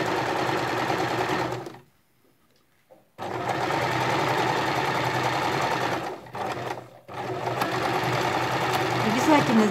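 A sewing machine stitches a swimsuit in loud, steady running bursts, pausing briefly twice between seams, with someone speaking over the motor.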